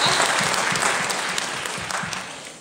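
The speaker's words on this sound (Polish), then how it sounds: "Szanowni Państwo, tak, brawa dla Państwa." Audience applause for seniors at a big band concert for older people, a steady dense roar of clapping from a large crowd that holds evenly and fades slightly toward the end.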